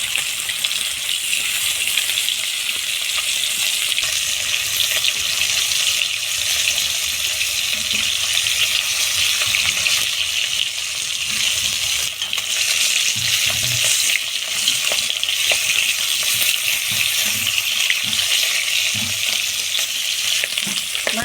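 Katla fish pieces frying lightly in hot oil give a loud, steady, crackling sizzle that runs unbroken throughout, with occasional soft stirring bumps underneath.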